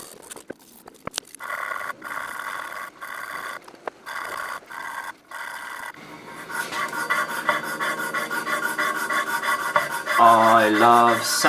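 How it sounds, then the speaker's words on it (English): Sandpaper rasps by hand over copper pipe joints to strip off solder, a close, loud scratching in repeated strokes that starts choppy and grows into continuous, harsher rubbing toward the end. "So I'm just going to re-sand all the solder off"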